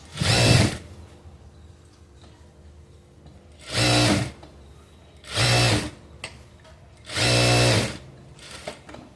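Sewing machine stitching the back piece of a blouse, heard as four separate close bursts of fast whirring, each lasting about half a second to a second, with quiet pauses between them.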